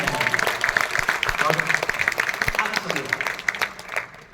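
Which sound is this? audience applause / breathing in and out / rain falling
audience applause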